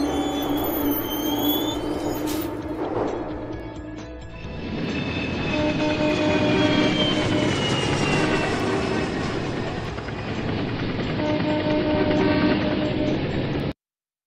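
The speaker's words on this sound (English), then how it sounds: "Subway." A subway train passes close by with a loud, sustained roar as its electric motors whine upward in pitch, then cuts off abruptly at the end. No voices are heard.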